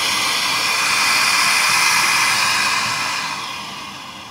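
A steady, loud whooshing roar of a home central vacuum system motor runs continuously, easing slightly toward the end.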